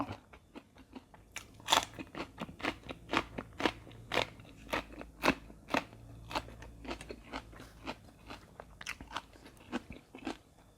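Crisp, crunchy bites and chewing of fresh vegetables, including snake gourd, eaten with chili dip and rice, repeated in a steady rhythm close to the mic, with no talking.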